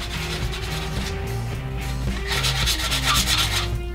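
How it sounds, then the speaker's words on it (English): Close, rhythmic rubbing of sandpaper back and forth over wood, repeated strokes at a steady pace, with no talking. "And finally, some hand sanding."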